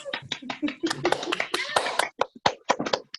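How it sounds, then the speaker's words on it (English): Small audience clapping at an evening storytelling event, a sparse handful of separate claps and taps mixed with chatter and voices nearby, uneven and fairly quiet. "Round of applause for all of us."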